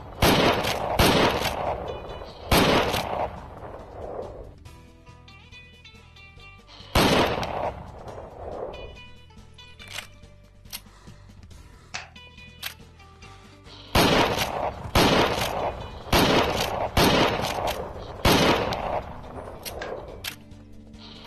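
Rifle shots in the Wild West VR shooter Private Property, loud bursts of several rapid cracks in clusters, separated by quieter stretches of game music with ringing tones.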